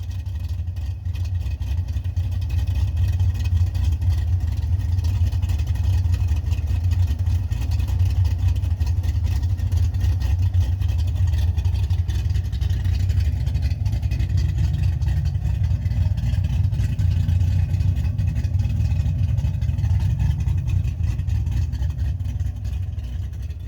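A Ford Foxbody Mustang engine, freshly converted from carburetor to EFI, runs steadily at idle for over twenty seconds, a close, continuous low rumble that rises slightly midway through.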